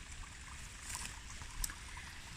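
A river runs steadily as a faint, soft wash of flowing water, with a couple of tiny splashes, quiet and continuous with no voices.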